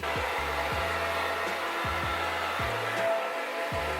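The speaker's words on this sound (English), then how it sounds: "I'm going to do is just blow dry my hair really quickly with these in it" A hair dryer blows steadily and loudly over hair set in rollers, its continuous airflow whoosh broken by several quick dips in pitch as the dryer is moved around.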